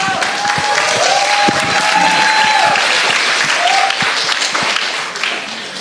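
Sustained audience applause fills a morning campus talk show on television run by communication students, loud and dense throughout with a brief voice or tone riding over it, fading slightly at the end.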